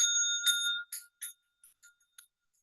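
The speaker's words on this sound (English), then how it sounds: "The third bell." A bell rings for the third time during a Zen zendo service. It gives a bright, ringing strike with a sustained tone, followed by several softer, quickly damped taps that fade into silence.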